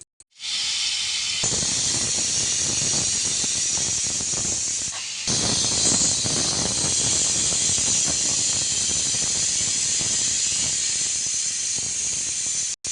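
Pressure cooker on a gas stove, cooking a rice dish, lets out a loud, continuous hissing whistle of escaping steam that holds steady close by for about twelve seconds, with a brief dip midway.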